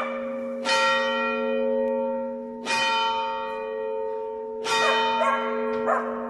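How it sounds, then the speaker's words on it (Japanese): Church bells ring out in a town in Italy, three or four loud resonant strikes a couple of seconds apart, each leaving a long humming tail, close and clear with no talking. "突然教会の鐘が鳴り始めました。"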